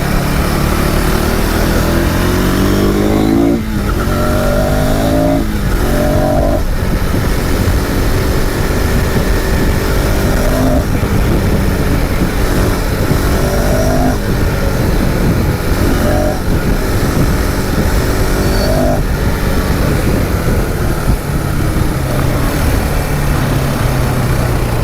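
A KTM 390 Adventure X motorcycle engine roars loudly and continuously while riding, rising in pitch through repeated acceleration runs with gear changes, mixed with steady wind rush.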